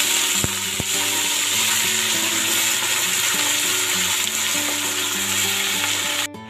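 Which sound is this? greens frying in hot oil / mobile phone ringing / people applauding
greens frying in hot oil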